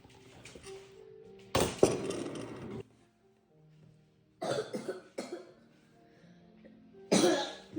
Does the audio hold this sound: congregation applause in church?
no